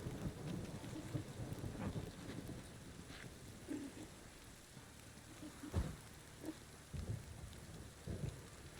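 Rain pours steadily in The Witcher 3 video game during a thunderstorm, with several rumbling thunder rolls and crackles rising over the constant downpour.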